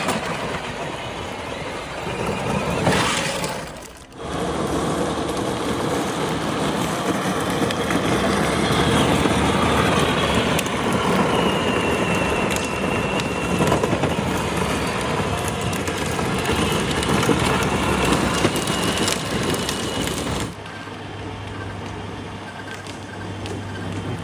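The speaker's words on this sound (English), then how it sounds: "We just put the Ryobi conversion kit in the Warthog" A Power Wheels Warthog ride-on toy fitted with a Ryobi conversion kit drives steadily for about twenty seconds, giving a loud, continuous rattling motor and wheel roar. A brief dip comes near the start, and the noise drops off sharply at the end.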